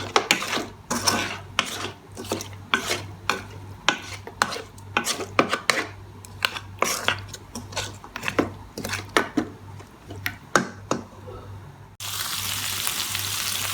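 Chunks of meat being mixed with black pepper and cumin powder in a pot, rhythmic scraping and rubbing strokes of a spoon over a low sizzle, close up, with a steadier hiss in the last seconds.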